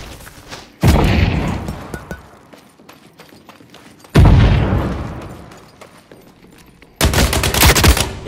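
Grenade blasts in the shooter game The Cycle: Frontier: three loud, booming explosions spaced a few seconds apart, each a sharp burst followed by a long decaying rumble.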